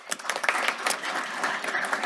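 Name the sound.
applause at a city council meeting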